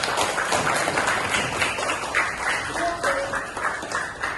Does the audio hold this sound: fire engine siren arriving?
no